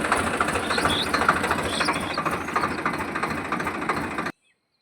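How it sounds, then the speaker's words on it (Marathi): A tractor engine running after being started, a steady close chugging rumble with regular pulses that cuts off abruptly near the end. "त्यामुळे ट्रॅक्टर चालू केला"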